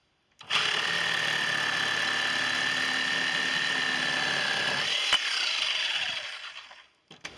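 A Parkside reciprocating saw cuts through hardwood in a steady, buzzing rasp that runs for several seconds near the mic. It ends with a sharp crack as the cut finishes, then the motor winds down.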